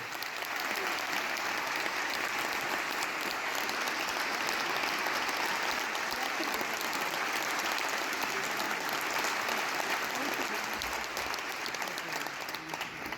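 A concert audience in Besançon applauding a musician as he is introduced, a sustained, even roar of many hands clapping throughout with no pauses.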